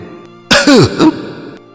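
A man gives a sharp, choked cough and throat clear in two quick bursts, loud and close, then quiet.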